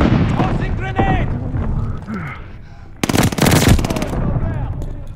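MG 42 machine gun in Call of Duty Vanguard gameplay, a loud, rapid burst of automatic fire lasting under a second, set among game voices and battle noise.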